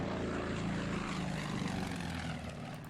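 Propeller engines of Wildcat fighter planes drone steadily in the World War II Pacific wargame Order of Battle, a continuous loud, close rumble that eases off slightly toward the end.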